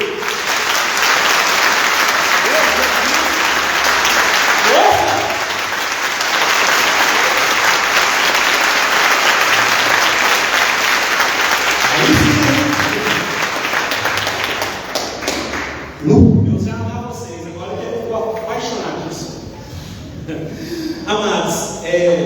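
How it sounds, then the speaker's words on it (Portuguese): A congregation claps together after a sermon in a church service, a loud, sustained wash of applause that thins out toward the end as a few scattered claps and voices remain. "Agora vocês vão aplaudir a palavra de Deus."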